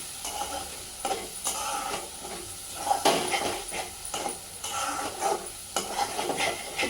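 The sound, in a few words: gongura prawn curry frying and sizzling in oil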